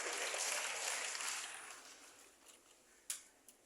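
Steady applause from a crowd that gradually fades out, ending with a couple of isolated claps.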